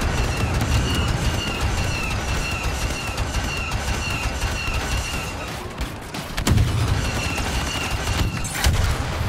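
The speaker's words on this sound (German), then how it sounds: "Da kommen immer Schüsse" Bursts of gunfire in Star Wars Battlefront II crackle repeatedly over a dense, noisy background, with a couple of sharper, louder shots standing out near the end.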